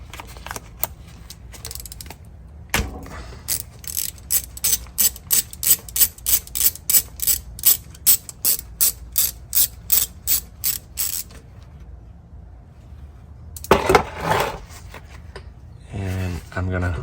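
Rapid repeated clicks of a hand ratchet turning out a T30 Torx screw that holds a line on a 2007 Porsche 997 Turbo, a long steady run of ratcheting strokes, then a short burst after a pause.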